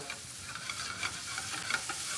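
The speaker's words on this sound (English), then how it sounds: "you're just going to sizzle it up, give it a bit of crispness." Bacon sizzles steadily in a frying pan, a bright crackling hiss with small pops, close by and continuous.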